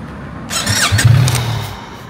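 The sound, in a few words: motorcycle riding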